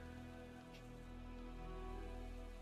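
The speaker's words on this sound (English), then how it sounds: "I don't know if you guys can hear the rain or not, but man, it is pouring down hard" Heavy rain pours down steadily outdoors, a constant dense hiss of drops on surfaces with no voices, low and even throughout.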